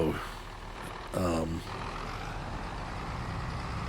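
A truck in Farming Simulator 22 rumbles steadily with engine noise throughout, broken by a short burst of loud hissing like an air brake or mechanical release near the middle.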